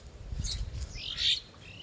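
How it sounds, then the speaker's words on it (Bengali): Birds call around papaya trees in a rain-damaged garden, a couple of short chirps and a thin squawk heard faintly at a distance over low background noise. "পাখি দেখতেছেন পাখি পেঁপে খায়"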